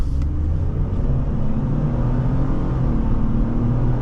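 A 2020 Ford Expedition SSV police SUV engine revs up as it accelerates, a loud, steady rumble and whir from inside the vehicle with no pauses.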